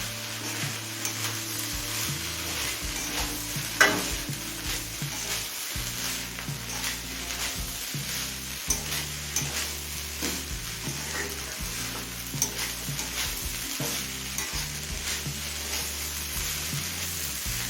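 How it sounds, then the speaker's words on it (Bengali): Mixed vegetables with capsicum stir-fried on a high gas flame, a constant dense sizzle with intermittent stirring scrapes and one brief metallic clink, heard close and without speech. "গ্যাসের ফ্লেমটা হাইতে করে দিয়ে একটু নাড়াচাড়া করে নেবো"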